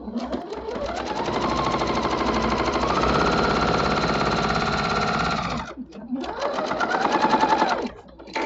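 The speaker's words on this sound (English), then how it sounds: "and start sewing" A sewing machine stitches a patriotic star quilt block, running in a steady continuous whir for about five seconds, pausing briefly, then running again in a shorter burst, close and fairly loud.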